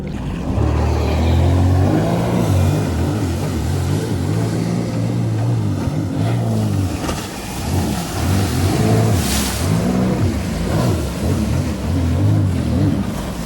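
A 2024 second-generation Sea-Doo Spark Trixx 1up personal watercraft engine revs hard up close, its roar surging and dipping in waves for the whole stretch with no talking.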